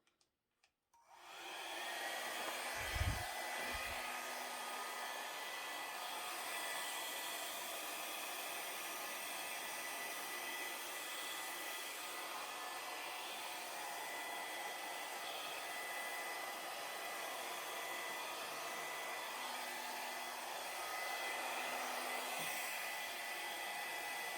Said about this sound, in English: A little matching hair dryer.